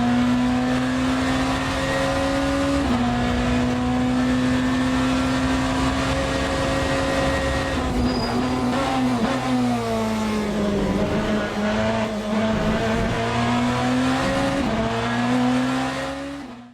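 A hypercar engine in the Le Mans Ultimate racing game holds a loud, sustained high drone, dipping and climbing as the throttle is eased back on through a corner exit, with faint tyre noise on the track beneath it.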